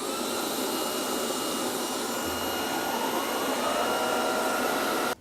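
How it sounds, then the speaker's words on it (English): A Roborock Dyad Pro wet-dry vacuum dock runs its self-cleaning cycle, a loud, steady whirring motor with an airy rush running continuously before cutting off abruptly. "Self-cleaning started."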